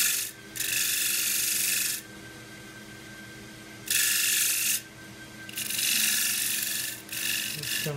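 A box of forest sheoak is shear scraped on a wood lathe, with a tool rasping against the spinning wood in three bursts separated by quieter spinning hum, close and without talk.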